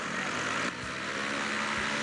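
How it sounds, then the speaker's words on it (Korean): A paramotor engine roars on takeoff as a steady, loud, droning whine throughout, with a brief dip in intensity partway before the drone resumes. "엔진 소리가 땅을 뒤흔듭니다."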